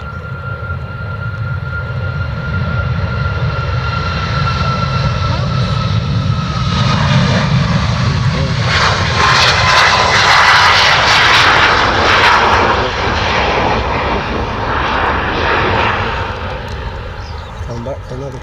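A Boeing cargo freighter jet takes off, its engines producing a loud, sustained roar that swells to a peak and then slowly fades, with faint voices nearby.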